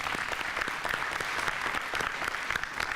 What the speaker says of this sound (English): give you all a round of applause for that